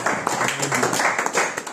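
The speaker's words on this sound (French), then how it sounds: "Là, tu peux applaudir aussi pour ta vie." Steady clapping from a church congregation at a Sunday service, dense and continuous, fairly close, with some voices mixed in.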